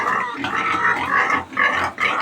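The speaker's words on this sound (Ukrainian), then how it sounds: "Свиней же ж сюди перевели, гляньте, що роблять." Pigs grunting and squealing continuously at close range, a busy pen of overlapping oinks with brief dips between bursts as they wait to be fed.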